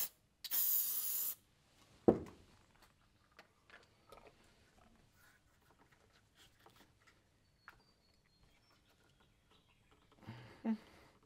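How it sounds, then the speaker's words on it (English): Silicone spray hisses from an aerosol can in one loud burst of about a second, applied to a sonar connector protector, with a second short spray near the end among quieter handling clicks. "silicone spray."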